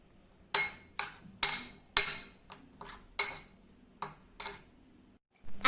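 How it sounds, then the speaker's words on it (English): Spoon stirring a seasoned cheese snack mixture with black pepper and salt in a bowl, giving a series of sharp separate clinks and scrapes at an uneven rhythm, close and fairly quiet. "give them a nice stir"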